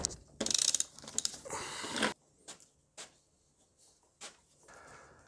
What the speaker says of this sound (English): I'm going to use an oil filter socket,